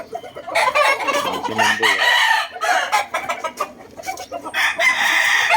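Banded game fowl roosters cluck and crow in a busy, overlapping chorus nearby, with a brief spoken word among the calls.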